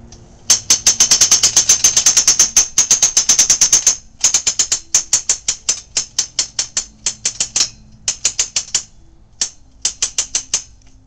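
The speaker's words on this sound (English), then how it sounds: "So let's just crank it up and see where it breaks." A ratchet is cranked hard to tension a nylon sling choker-hitched to a cable for a breaking-strength test, giving sharp rapid metallic clicks that run in fast bursts and then slow into spaced, uneven strokes. No talking.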